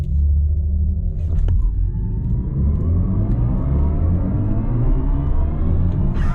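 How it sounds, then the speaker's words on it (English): A 2023 BMW i4 M50 electric car pulls away under launch control, its synthetic drive sound swelling into a loud, steady rising hum and rumble with layered tones climbing in pitch over several seconds, no talking. "It actually makes an audible noise in launch control, which I think is very, very cool."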